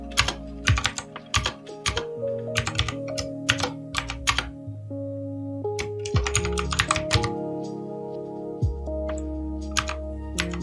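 Fingers type HTML code on a computer keyboard in quick irregular bursts of close, crisp key clicks, with short pauses between runs and no voices.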